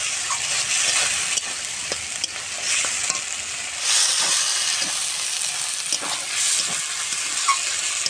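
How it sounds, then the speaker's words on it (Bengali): Spice masala for old green jackfruit with a large fish head is stir-fried in a pan, giving a continuous hissing sizzle broken by repeated scraping stirs of the spatula, moderately loud with no speech. "এইভাবে সুন্দর করে কষতে থাকবো।"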